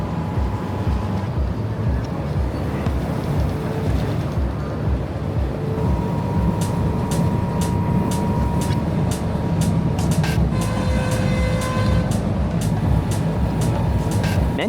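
A local train running from Padang Besar to Butterworth, calling at many local stations, rumbles steadily from on board, with continuous low rolling noise and faint intermittent clicks and rattles throughout.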